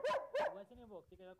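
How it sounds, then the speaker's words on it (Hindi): A five-month-old female German Shepherd puppy gives two sharp, close barks followed by lower whimpering yips, loud and alone. "और मुझे डराने के लिए अभी ये भौंक रही है, खड़ी है।"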